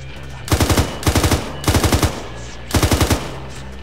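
A machine gun laying down suppressing fire in four short bursts of rapid, loud shots, each a few rounds, separated by brief pauses in an outdoor firefight.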